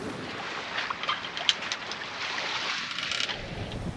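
A sailboat under way in rising wind, with a steady rush of wind and water hiss, occasional small splashes and gusts buffeting close by, and no talk.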